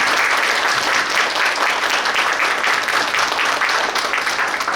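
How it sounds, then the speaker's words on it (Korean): An audience at an international carbon-neutrality forum in Korea applauds steadily and densely, loud and sustained throughout without a break. "여러분들 박수 한번 좀 주시기 바랍니다"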